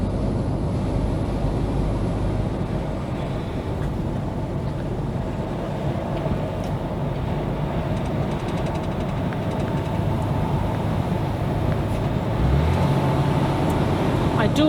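A class 1 lorry cruising a motorway route, heard from inside the cab as a steady, dense low engine and road rumble with constant tyre roar throughout, no voices.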